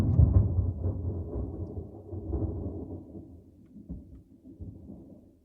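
Thunder rolls loud and low at the start, then rumbles on and slowly fades over several seconds, with no talk over it.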